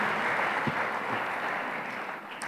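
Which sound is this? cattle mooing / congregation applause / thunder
congregation applause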